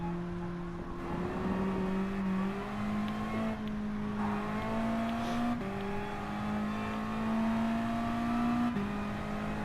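A 1989 Mazda Eunos Roadster drives in Gran Turismo Sport, its engine holding a steady mid-pitched drone that rises and dips through gear changes, with tire noise and brief revving accents.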